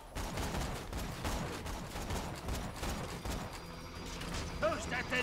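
Faint, busy gunfire from the Borderlands 2 video game, with rapid clattering shots and mechanical effects running continuously, plus brief whistling tones near the end.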